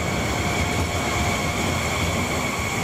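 A regional train rolls through a station in Liguria, Italy, with a loud, steady rumble of wheels on rail that holds throughout, with no voices.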